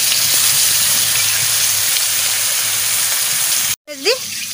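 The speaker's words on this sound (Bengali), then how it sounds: "তেল গরম হয়ে গেছে, আমি মাছ ভাজা বসাই দিচ্ছি।" Two pieces of salted, turmeric-coated fish fry in hot oil, a steady, moderate sizzle and hiss lasting most of the time, followed by a short gap and a brief voice at the end.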